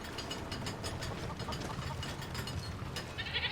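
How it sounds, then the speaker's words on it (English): Baby goat in Skyrim bleating faintly among game ambience, with a low engine-like hum and soft rhythmic noise throughout. "Oh, little baby goat."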